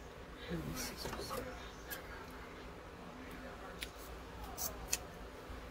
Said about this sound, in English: And then I took this embroidery thread that I received and cut some of this.